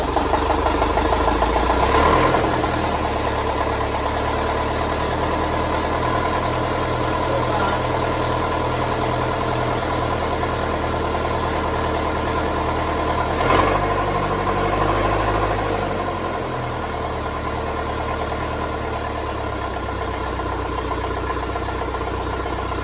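A Ferguson TEA20 tractor engine cranks, catches and settles into a steady, rumbling idle, with a brief surge partway through before easing back to a lower, even tick-over close by.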